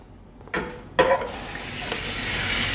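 Chicken pieces dropped into hot ghee in a pan for chicken karahi, with two sharp splashes followed by a steady, loud sizzle that builds and holds.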